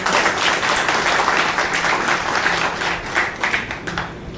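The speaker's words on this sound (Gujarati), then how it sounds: "બધાના માટે એક વખત જોરદાર તાળી થઈ જાય" A crowd claps and cheers in sustained applause at an Aam Aadmi Party public meeting in Vadodara, dense and loud with a slight fade near the end, and no speech over it.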